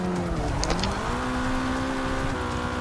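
A car accelerating across a field with its engine note holding steady and edging upward, loud and continuous throughout with no talking.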